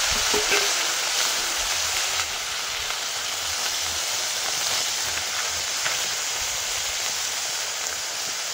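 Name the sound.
mourala fish frying in oil in a wok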